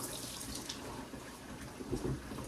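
Steady running water from a kitchen tap, a soft continuous hiss with a few faint clinks near the end.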